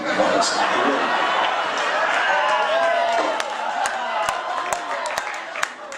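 A roast audience for Chris Daly claps and chatters in a loud, dense wash of hands and voices that thins into scattered claps, with people talking over it.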